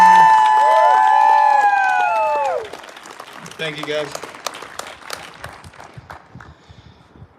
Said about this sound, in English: if we could all just give these folks a big round of applause for putting this thing together